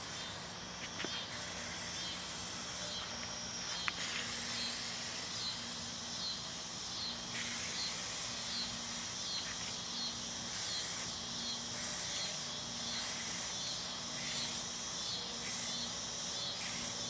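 Plasti Dip sprayed onto a car grill for a fifth coat: repeated short hissing aerosol bursts separated by pauses, fairly faint over a quiet background, with no talking.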